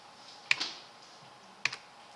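Two separate clicks of the F4 key on a computer keyboard, about a second apart, crisp and close in a quiet room.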